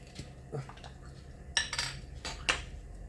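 Light metallic clinks and taps of a spoon against a cup, several scattered strikes over soft background hum, close and fairly quiet.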